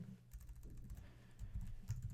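Quick keystrokes clatter on a computer keyboard in a soft, uneven burst of clicks, close but faint, with no voices.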